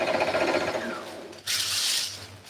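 Sewing machine stitching a blazer jacket, a fast steady mechanical whirring and clatter that briefly slows and then resumes at high speed, close and clear with no talking.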